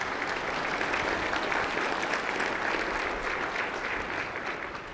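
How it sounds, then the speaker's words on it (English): A dense, steady round of audience applause greets city council members at a 2018 State of the City address, filling the whole stretch before slowly thinning at the end. "Please recognize them with a round of applause as well."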